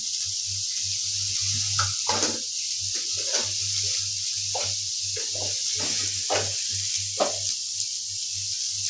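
Pasta masala with salt and red chilli powder sautés in a pan, a faint steady hiss with scattered stirring scrapes over a low constant hum.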